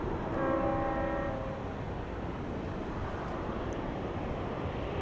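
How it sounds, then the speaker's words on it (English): A train horn sounds in a steady, fairly loud blast for about a second near the start, then fades into continuous low rumbling rail noise near an airport at night, with no talk. "I hear a train."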